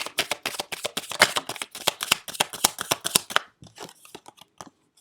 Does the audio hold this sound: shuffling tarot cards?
yes